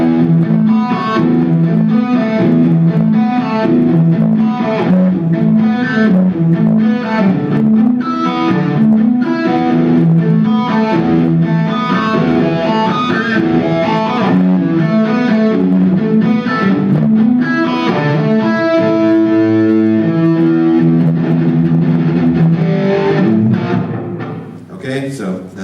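An electric guitar with a mildly gritty tone plays a continuous run of notes and chords, close and fairly loud, fading at the end.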